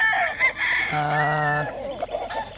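Broodstag roosters of gamefowl lines such as super bulik, lemon and possum crow loudly and close up, one long crow rising and holding, with clucking before and after.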